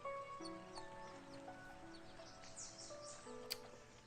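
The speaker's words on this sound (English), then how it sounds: "The chirp of the birds and the sounds of the waves echo on forever." Game-world birds chirp and tweet in short, scattered calls over a soft ambient backdrop with sustained tones, moderately quiet and without talk, in Persona 4 Arena Ultimax.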